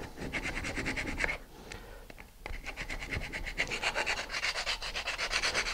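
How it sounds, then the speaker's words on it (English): Rough-grit sandpaper wrapped around a wood dowel scrubs inside a nose cone in steady, close back-and-forth strokes, with a brief pause partway through. "I've just taken a wood dowel and I've wrapped it with some rough grit sandpaper, and I'm just going to sand around on the inside."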